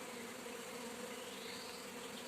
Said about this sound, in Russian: пчелки у нас залазят потихоньку в роиловочку